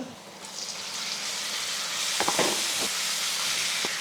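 Half a kilo of small-cut chicken pieces for a pepper chukka hits hot oil in a pan with a rising, steady sizzle up close, punctuated by a few quick clacks and scrapes as the pieces are stirred.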